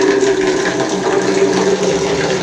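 Water poured for pet pigeons: a loud, close, steady rushing splash of flowing water, continuous throughout with no speech.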